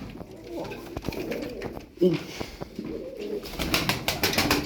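Breeding pigeons coo softly amid rustling and handling noises as they are placed into a box, with a few sharp clicks and flutters close by.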